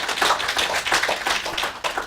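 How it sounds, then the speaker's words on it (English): A small audience applauds at a mediumship development evening, a dense run of close hand claps that holds steady for about two seconds with no talk over it. "Round of applause, please."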